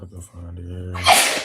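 Someone speaks a few words, then a sharp, breathy sneeze bursts out at the end.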